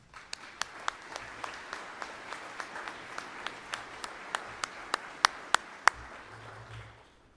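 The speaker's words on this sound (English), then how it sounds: "That deserves a round of applause." An audience at a college spring graduation ceremony gives a steady round of applause lasting several seconds, with a few sharp single claps standing out near the mic before it dies away.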